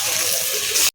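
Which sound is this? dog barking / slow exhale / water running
water running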